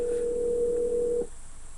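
A steady telephone line tone sounds while a call is placed, holding for just over a second before cutting off abruptly into faint line noise.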